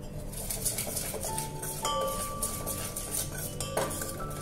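A spoon scrapes and clinks steadily against a pan while garam masala is stirred into a simmering egg curry, close-up metallic tapping and scraping repeating over a soft background hiss, with no talking.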